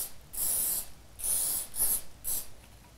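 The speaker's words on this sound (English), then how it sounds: "we're going to spray about 1/3 of our styrofoam ball" Four hissing bursts of aerosol spray, each about half a second long with short gaps between them, close up and with nobody talking, as a styrofoam ball is coated for a spring craft.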